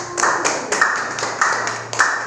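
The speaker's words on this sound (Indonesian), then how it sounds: "tepuk tangan untuk kelompok 1" A small classroom group claps for group 1 of a seventh-grade Indonesian lesson, a few distinct sharp claps spaced irregularly, near and moderately loud, with faint voices underneath.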